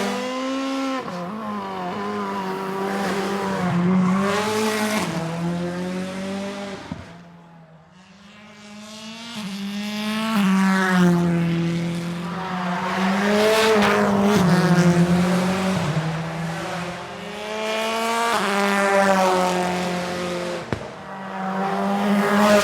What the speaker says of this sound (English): The Sunoco Carbon Kevlar C6 Corvette.